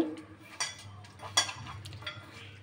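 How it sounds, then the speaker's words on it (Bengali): Fish pieces are worked by hand into a mustard-oil marinade for a fish fry, giving soft, wet squelching and rustling with a few sharper clinks against a bowl, close and moderately quiet with no talk. "এবার মাছগুলোকে ভালো করে মেখে নেব।"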